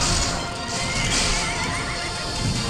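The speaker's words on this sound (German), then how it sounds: "Ich hab das super Pferd." A loud horse whinny in Hyrule Warriors rising and wavering over dense background noise, close and prominent.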